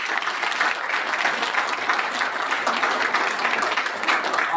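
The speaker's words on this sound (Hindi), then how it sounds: "जोरदार ताली आप सभी के लिए" An audience applauding after an oath-taking ceremony for an environmental group, sustained dense clapping from many people in a hall, steady and loud throughout.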